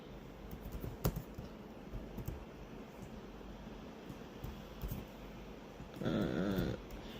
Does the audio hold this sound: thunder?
no